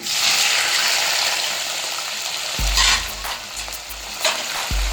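Chicken meat hits hot spiced oil in a pan, a loud steady sizzle and frying hiss filling the space, with a few low thumps and stirring scrapes as the pieces go in and are moved around.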